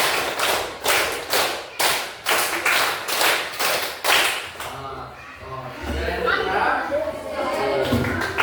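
Children in a classroom clap in unison, about eight sharp rhythmic claps in quick succession, loud and close, before the clapping stops and a voice begins talking.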